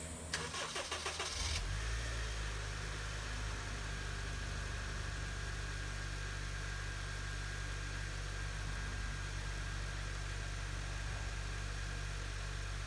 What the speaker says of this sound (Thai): หลังจากที่สตาร์ทเครื่องติดไว้นะฮะ